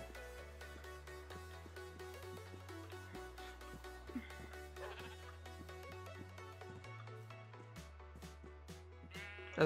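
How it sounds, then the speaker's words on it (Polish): Sheep bleats from the video game Minecraft, set against steady synthesized game music with plucked notes and a low bass line, the bleating faint and blended into the tune. "owce"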